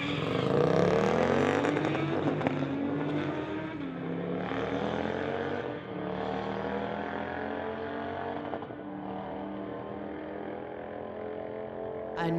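Two drag-racing motorcycles, including a 2007 Kawasaki ZX14, roar down the strip in a head-to-head street-legal run, a loud sustained engine howl with gear-change dips that slowly fades as they pull away.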